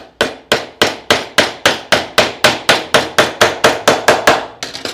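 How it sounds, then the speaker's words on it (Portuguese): A hammer drives nails into a wooden strip on a DIY wooden carpenter's square: about sixteen sharp, evenly spaced blows close by, with a quicker flurry at the end. "Vou colocar o sarrafinho aqui reto, vou pregar aqui"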